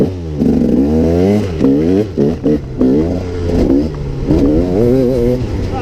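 A KTM EXC 300 dirt bike engine on its second map revs hard and close, climbing and dropping through a series of sharp throttle blips that rise and fall in pitch.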